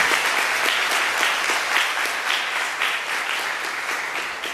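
Church congregation applauding steadily, a dense wash of many hands clapping at close to moderate distance, tapering slightly toward the end with no voices.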